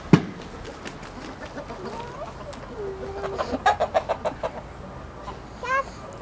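Black and white American breed chickens and roosters clucking in a farmyard, a string of close, fairly loud clucks rising toward the end over background noise, with a person's voice faintly present.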